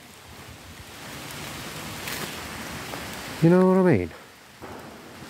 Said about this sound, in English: Can you hear it rain, guys?